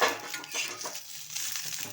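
Green chillies roast in a pan while a utensil stirs and scrapes them, giving soft, repeated clinks and scrapes over a low sizzle.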